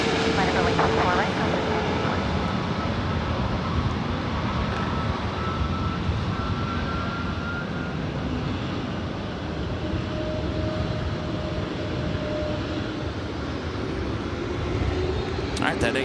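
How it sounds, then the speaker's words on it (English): An Airbus A321neo airliner at LAX heading to runway 24 right, its broad engine roar steady and fairly loud throughout, with voices talking over it. "that A321neo heading to the Motown City, heading over to 24 right."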